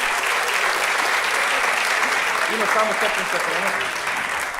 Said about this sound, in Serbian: Dajte veliki aplauz